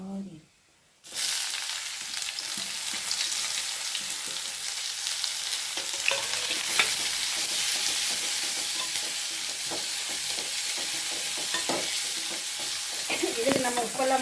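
Onions sizzle steadily in hot oil alongside chana dal and urad dal while being stirred, a loud continuous frying hiss that starts abruptly after a brief quiet moment, with occasional scraping of the spoon and faint talk.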